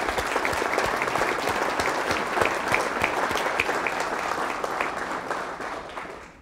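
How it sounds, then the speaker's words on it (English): An audience at an all-hands meeting gives a sustained round of applause for colleagues, dense steady clapping from many hands that tapers off near the end. "So let's give a round of applause to all of our colleagues."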